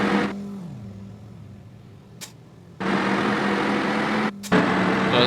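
A bus engine drones steadily in Bus Simulator Bangladesh on a drive from Comilla to Chittagong, its hum dipping as the revs fall, then surging back loud and sustained, with a couple of sharp clicks in between.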